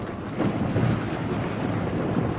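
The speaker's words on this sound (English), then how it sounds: "The wind." Wind blowing as a radio drama sound effect, a steady low rushing gust held evenly and fairly loud throughout with no voices.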